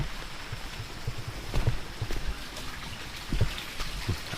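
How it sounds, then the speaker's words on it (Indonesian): Rain falls steadily around a light-steel hydroponic greenhouse, a dense patter with scattered louder drips and drops hitting nearby surfaces, moderately quiet and without talk. "Cuacanya agak sedikit hujan."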